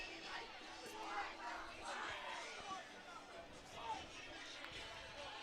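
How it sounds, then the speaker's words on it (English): A high school football crowd at a Mount Horeb-Barneveld away game at Beaver Dam shouts and cheers from a distance, a rough sustained roar with rising swells, with a commentator talking over it. "MHB crowd kind of letting them know now"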